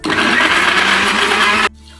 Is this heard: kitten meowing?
no